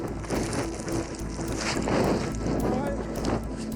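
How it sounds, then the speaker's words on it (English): Strong blizzard wind roars and buffets the microphone in a constant rumbling rush on open moorland, with gusts swelling and easing and a faint voice somewhere beneath. "as you can tell, quite windy"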